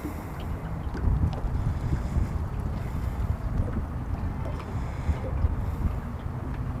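Gusty wind buffeting a fishing boat on open water, a low rumbling roar across the microphone that swells and eases unevenly throughout, with no clear voices.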